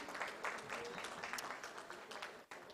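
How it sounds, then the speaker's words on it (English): Faint, distant audience applause at a startup summit honoring shortlisted startups, a continuous patter of many hands that drops off abruptly near the end. "So one more round of applause for them"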